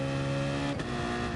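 BMW race car launching hard off the line in Gran Turismo Sport, a loud, close engine drone that climbs in pitch, then drops briefly as the gear shifts before rising again.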